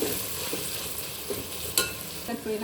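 Tomatoes frying in a pan while being stirred, a continuous soft sizzle with scraping stir strokes and a sharper clack near the end, close and moderately loud, no talking.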